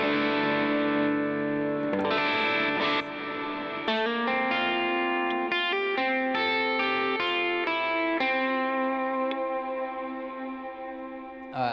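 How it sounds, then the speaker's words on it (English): An electric guitar playing sustained chords and melodic notes runs through a big hall reverb on a Line 6 HX Stomp in a worship pedalboard setup. The notes are loud and continuous, blooming into long washy tails, with no talking. "The second reverb that I use is this big hall reverb."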